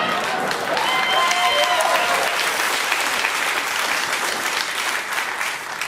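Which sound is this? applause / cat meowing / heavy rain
applause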